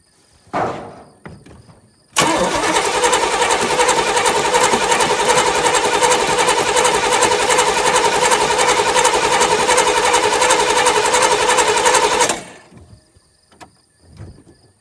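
An Oldsmobile 307 V8 engine starts cold, with a brief crank followed by about ten seconds of loud, steady running before it cuts off abruptly. A few faint knocks come afterward.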